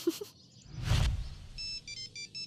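A mobile phone ringtone chimes in a South Indian film scene, a short repeating electronic melody starting after a dull thump and rustle, fairly quiet and with no talk over it.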